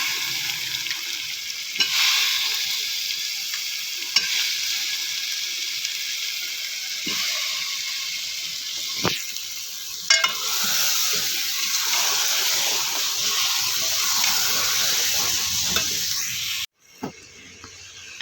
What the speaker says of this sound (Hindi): अब हम इसमें शामिल करेंगे आलू और उनको भून लेंगे